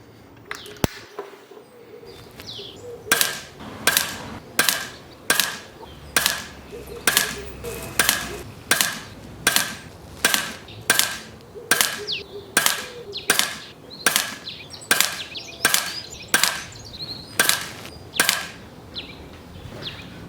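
An air rifle fires pellets at a target 29 meters away. About twenty sharp, evenly spaced shots crack loud and close over roughly twenty seconds, with quiet pauses between them.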